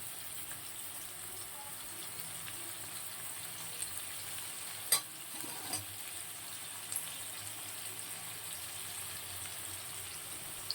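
Ginger garlic paste and cumin paste frying in a pan, giving a faint, steady sizzle with a few soft clinks and stirring taps, no talking.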